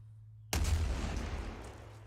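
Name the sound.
artillery fire in a video game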